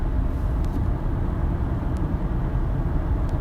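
Steady low road rumble and engine hum from a car being driven, heard from inside the vehicle with no talk.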